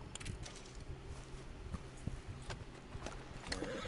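Horse hooves clip-clopping in Red Dead Redemption 2, a quiet, steady walking rhythm of hoofbeats over low background ambience.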